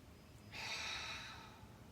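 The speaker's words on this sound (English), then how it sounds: "just breathing in" A single breath drawn in through the nose as part of a seated breathing exercise, a soft airy hiss lasting about a second, close and quiet, with no talking.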